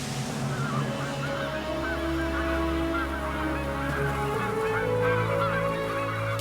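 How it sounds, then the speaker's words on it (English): Geese gather in the Canadian summer wilderness before migrating, letting out repeated overlapping honks at moderate distance over a low musical backdrop. "Geese and other migratory birds begin to gather for their departure."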